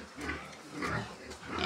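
Piglets separated from their mother grunt and squeal in a steady, noisy chorus, loud and close throughout with no pauses.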